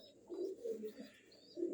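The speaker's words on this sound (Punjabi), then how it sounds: "ਇੱਥੇ ਆਪਣੇ ਕਬੂਤਰ ਕਬੂਤਰੀਆਂ ਤੇ ਆ ਦੋ ਨਿੱਕੇ ਬੱਚੇ ਜਿਹੜੇ ਹੁਣ ਨਿਕਲੇ ਆ" Pigeons coo softly in low, rounded bursts, three or four short calls spread across a quiet moment at a household coop with young chicks nearby.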